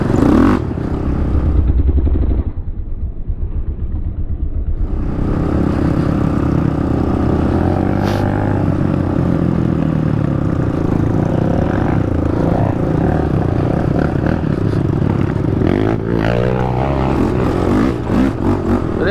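2014 Honda 450 sport quad ridden off-road, engine loud and near, dropping from a high rev to idle then climbing back into sustained revving with shifting pitch.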